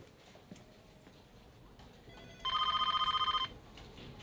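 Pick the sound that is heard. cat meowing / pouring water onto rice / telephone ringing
telephone ringing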